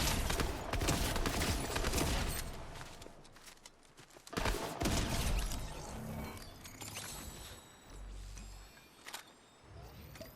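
Shotgun blasts and gunfire in the video game Fortnite, several sharp bursts scattered through busy in-game action, with a loud cluster of shots near the middle.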